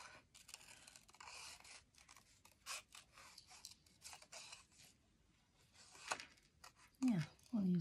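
Scissors cutting Stampin' Up! cardstock for an interlocking gate-fold card, heard as a run of quiet, close snips and paper rustles with brief pauses, then a short burst of speech at the end.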